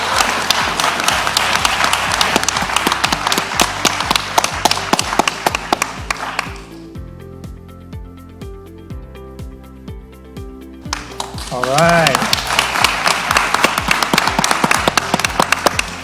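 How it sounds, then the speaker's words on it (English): At a pitch competition finals, an audience gives a round of applause for award winners, a dense burst of clapping over upbeat music. It pauses while the music carries alone, then the clapping returns strongly, and a voice briefly speaks. "Let's give one final round of applause to all our winners and all our competitors today from the 40 Acres Founders Program"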